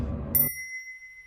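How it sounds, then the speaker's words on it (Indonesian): A single bright bell strike in a horror film scene rings out after a short burst of low background sound and sustains as a clear, fading tone. "Saat dia membunyikan lonceng"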